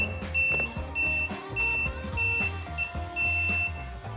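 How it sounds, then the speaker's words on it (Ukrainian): A Procraft cordless battery chainsaw emits a steady series of high electronic beeps on startup, repeating in a regular on-off rhythm over a low hum. "Пилка подала один звуковий сигнал і, в принципі, можна нею працювати."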